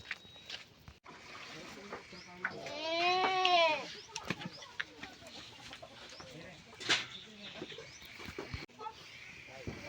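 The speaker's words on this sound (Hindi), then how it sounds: "और अभी अपन बकरी लेके आ गए हैं।" Goats bleat in a rising, wavering call amid farmyard clucking and scattered rustles, fairly close in a quiet rural setting on a village cattle-festival morning, with a voice speaking briefly.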